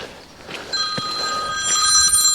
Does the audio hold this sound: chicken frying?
no